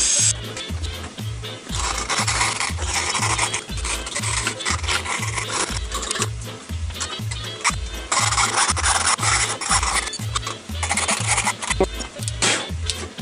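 A tool cuts a switch opening into a plastic case, with rhythmic back-and-forth rasping strokes in a steady sawing pattern, close and fairly loud, with no speech.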